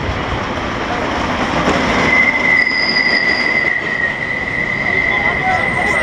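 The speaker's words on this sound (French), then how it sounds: "Ça fait vraiment un bruit de train pourri quoi, ça couine de plus en plus" Metro-style train in a Parc Astérix queue squeals loudly, a high thin steady screech of wheels over continuous rolling rumble and clatter, with faint voices nearby.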